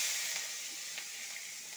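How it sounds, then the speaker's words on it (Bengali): Onion fries in oil, giving a soft, steady hiss and faint sizzle with a few light crackles, quiet and close, with no talking. "আমি এবার পেঁয়াজটা তেলে দেব"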